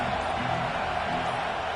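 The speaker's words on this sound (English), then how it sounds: "This crowd trying to make life miserable for this offense." Football stadium crowd at an NCAA game roaring in a steady, dense wash of noise that holds without a break, loud and close throughout.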